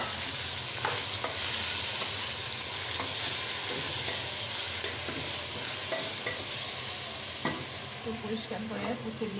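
Meat frying in a pan in a pressure cooker, with a continuous close sizzle and hiss broken by light scraping and stirring clicks.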